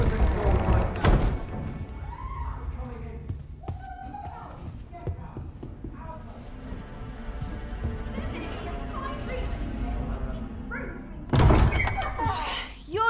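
Heavy wooden door in a Dragon's Dogma 2 town struck with loud thuds near the start, then swinging open with a thump near the end, with game dialogue and ambient music running throughout.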